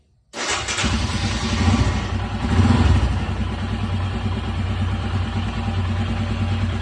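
A Royal Enfield Himalayan motorcycle engine with a starting issue, unused for about four days, fires up abruptly after silence, briefly revs, then settles into a loud, steady, close idle with a pulsing thump.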